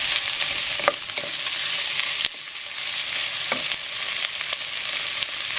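Sausage frying in oil for macaroni sopas, a bright continuous sizzle with scraping stirs and a few utensil taps, one sharp break partway through, no voices.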